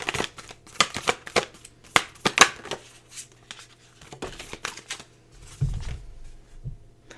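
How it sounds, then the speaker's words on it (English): Moonology oracle cards being shuffled by hand, a run of crisp riffling flicks and slaps in quick bursts, close and fairly loud, followed by a softer low thump near the end. "Just going to pull some oracle cards from you. This is the Moonology Oracle."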